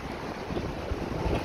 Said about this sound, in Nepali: ए झर्नै झर्ना छ त यार